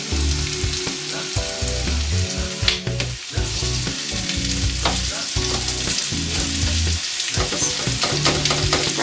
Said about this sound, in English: Break them up a little bit, mix them around in the oil,